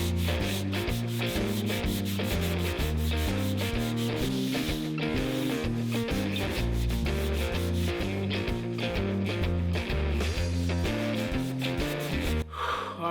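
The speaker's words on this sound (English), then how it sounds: "We're going to now bump it up to the 120 and hand sand the 120" Hand sanding of an old wooden live edge bench with 120 grit sandpaper: a steady rubbing scrape running continuously, partly buried under loud music, with no voices.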